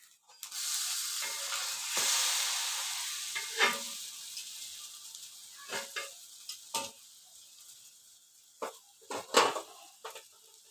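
Dosa cooking in a pan over low heat, with a bright steady sizzle close by that gradually fades, broken by several sharp scrapes and taps of a spatula.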